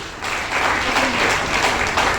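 Applause from an audience at a product event as a man is welcomed up, steady loud clapping from many hands throughout, with a faint voice underneath.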